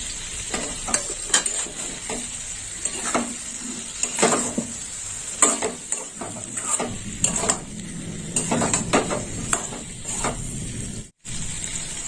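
Chopped tomatoes hit a pan of frying eggplant and spices, with continuous sizzling under repeated scraping and clattering stirs of a utensil against the pan, close and fairly loud, with no talking.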